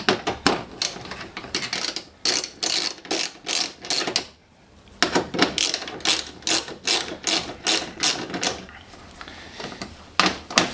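A hand ratchet with a 10mm socket undoes bolts holding a bar on a Toyota GT86, giving fast repeated clicking bursts close up, broken by a short pause midway and then resuming in quick runs.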